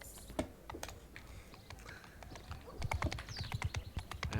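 Horse hooves clatter on stone stairs in a video game, sharp irregular clip-clop knocks picking up toward the end, with faint background game sounds.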